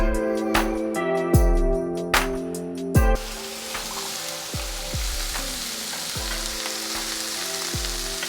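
Mushrooms sizzle and fry steadily in a pan, a dense broadband hiss that runs throughout, with a few sharp utensil knocks and scrapes near the start, close and moderately loud.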